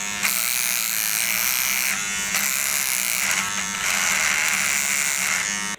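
A Wahl all-in-one battery trimmer with a weak battery and motor runs with a steady thin electric buzz, close and continuous, its pitch wavering slightly and ending with a brief cutoff.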